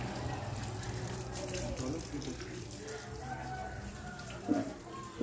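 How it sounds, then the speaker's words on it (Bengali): Water is sprayed onto a newly built house, a steady broad hiss running throughout, with voices speaking over it and a chicken faintly audible in the surroundings. "দেখো সবাই জল দিচ্ছে বাড়িতে"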